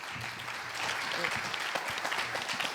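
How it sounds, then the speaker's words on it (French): Audience applause at a French meeting, a steady moderate patter of many hands clapping for nearly three seconds with a murmur of voices underneath. "Ouais, on peut applaudir."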